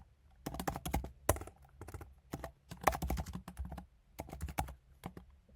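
Someone types at a computer keyboard, with close, crisp clusters of keystrokes in quick bursts separated by short pauses, and no voices.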